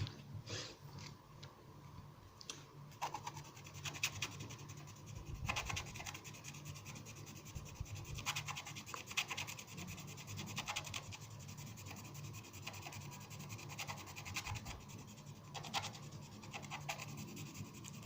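A stylus scratches a scratch-art board of an enchanted garden in quiet, close, repeated rubbing strokes with short gaps and no talking.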